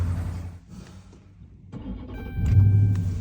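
An ex-police Dodge Charger sits at a cold start, its engine turning over and catching, then settling into a steady, loud low idle rumble that swells toward the end, with no talking.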